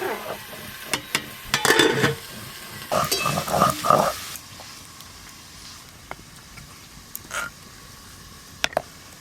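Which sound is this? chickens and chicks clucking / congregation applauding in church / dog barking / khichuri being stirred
khichuri being stirred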